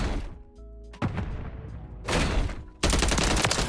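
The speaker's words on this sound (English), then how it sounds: "Doom shotgun." A shotgun fires in a fast video game firefight, with heavy, booming blasts and sharp cracks in bursts, loud and close, among other gunfire.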